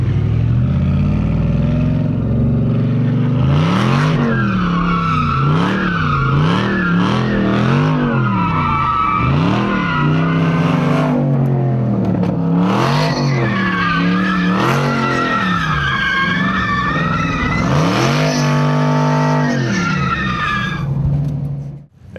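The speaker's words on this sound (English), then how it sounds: "Let's go for a ride in a brand new Charger Hellcat." A brand new Dodge Charger Hellcat at a car event roars and revs repeatedly, its engine pitch rising and falling in waves with tire squeal, loud and close throughout the ride.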